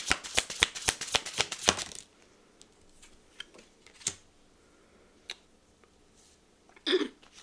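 Tarot cards being shuffled in a fast, close run of crisp riffling snaps for about two seconds, then quiet with a few scattered soft card taps and one short rustle.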